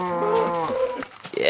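Cows mooing in the video game Minecraft, a loud, close, drawn-out low moo followed by a second moo right after it, with no talk.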